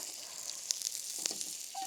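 Boat-shaped pastries fry in a pan with a faint, crackling sizzle, small pops scattered over a soft steady hiss.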